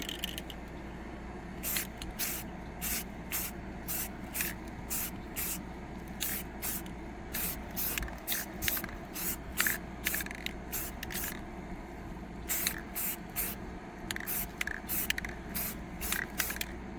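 Spray paint hisses from an aerosol can in repeated short bursts as a coat goes onto a pair of speakers, with irregular gaps between the bursts and faint handling noise underneath.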